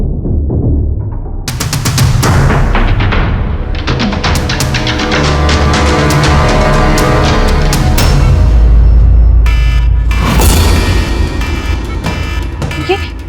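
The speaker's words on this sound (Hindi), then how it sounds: "ये अलार्म?" An alarm blares loud and continuous, with repeated pulsing tones over a dense, noisy background, ending in a brief shift of texture near the close.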